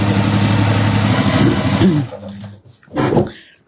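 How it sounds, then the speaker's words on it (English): A sewing machine stitching fabric strips for a bargello quilt runs with a steady motor whir for about two seconds, then stops, followed by brief handling noises. "But now all I'm going to do is stitch down here again."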